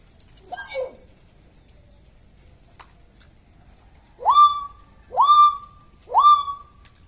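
A pet myna mimics a car horn, giving three evenly spaced, loud, close honking calls after a brief chirp and a pause.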